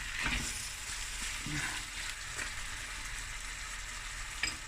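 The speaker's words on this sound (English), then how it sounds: "now I'm going to braise the meat and the onions for about, 15 minutes" Lamb akhni meat and onions braise in a pot, a steady close sizzle and hiss with a few soft stirring knocks near the start and a brief clink near the end.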